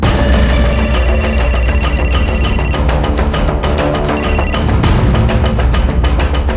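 A telephone rings on an outgoing call in a Hindi crime drama scene, giving repeated electronic ring pulses in steady bursts over a loud, dense background.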